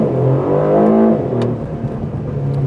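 A 2024 Aston Martin DB12 with 671 horsepower accelerates, its engine note rising and then dipping briefly as if between gear shifts, loud and close from inside the car, with no talking.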